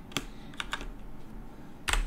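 Keys clatter on a computer keyboard as a git command is typed in a Linux terminal, a few quick separate clicks followed by a pause and then a final sharp double tap, close up with no talking.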